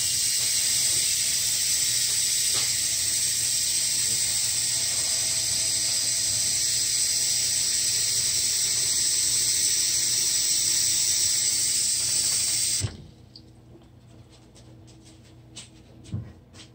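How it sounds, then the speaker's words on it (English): Tap water runs steadily into a dog's bowl as a smooth, bright hiss for about thirteen seconds, then stops abruptly, leaving faint small clinks and handling sounds. "And now I'm getting the dog some water."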